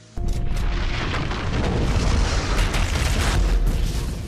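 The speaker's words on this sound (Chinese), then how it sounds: "随着一声巨响，门外的雇佣兵瞬间被炸得灰飞烟灭。" A sudden loud bomb blast at a house door erupts and rolls into a sustained, rumbling roar with crackling debris that keeps going for several seconds.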